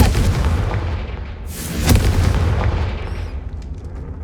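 A Confringo blasting spell goes off in the Hogwarts Legacy video game, a dense rumbling burst with a brighter crack in the middle, loud and close, followed by a fading low roar and a faint high chime.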